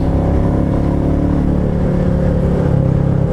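A Royal Enfield Meteor 350 single-cylinder engine accelerating in third gear on a Welsh road, with a loud, close, steady thumping drone and wind rush and no talking.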